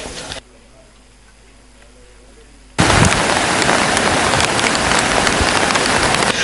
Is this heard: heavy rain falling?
yes